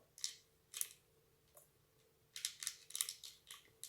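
A condom wrapper is torn open by hand at its small notches: several quiet, crisp crinkling rips come in short bursts, with a tighter cluster near the end.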